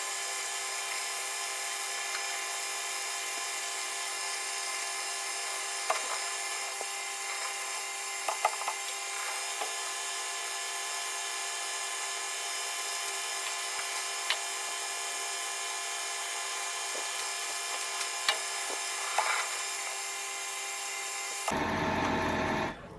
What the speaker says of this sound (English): Nice cut and nice swarf, although the lathe does seem to be labouring a little.